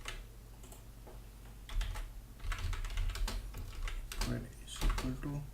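Code being typed on a computer keyboard: bursts of close, clicky keystrokes in uneven clusters with short pauses between them, over a low steady hum.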